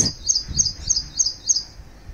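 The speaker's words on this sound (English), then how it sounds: "And here is my robin on top of Nag Champa plant." A robin perched on a Nag Champa plant in a garden gives a series of bright, high chirps, repeating about every third of a second, close and clear over a quiet background with no talking.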